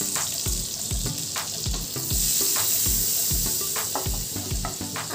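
Two spoons of butter melting in a hot pan, a close, steady fizzing sizzle with a regular run of soft low thumps beneath it, no talking.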